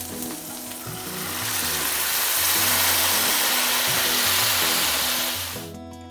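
Boiled dal tipped into a hot pan of turmeric, sugar and green chillies for cholar dal sets off a loud, swelling sizzle of frying. It hisses steadily for several seconds, then drops away, with music underneath.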